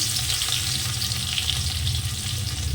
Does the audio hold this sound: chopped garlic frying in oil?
yes